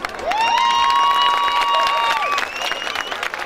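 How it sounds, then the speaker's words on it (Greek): A crowd at a summer 2015 dance event in Didymoteicho cheers the dancers and claps. A loud, sustained whistle rides over the cheering and clapping before it all fades slightly. "Όλοι οι χορευτές αξίζουν ένα μεγάλο χειροκρότημα."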